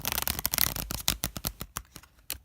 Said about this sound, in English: What a lovely shuffle,